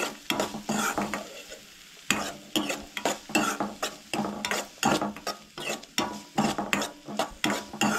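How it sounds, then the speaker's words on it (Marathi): Chopped vegetables for cutlets sizzle and fry in a pan while a spoon stirs them, giving a rhythmic run of sharp scraping strokes over a constant low hiss of frying, close and clear with no talking. "सो व्हेजिटेबल्स जे आहा न्हय ते बरे तळसळून घेवंक जाय."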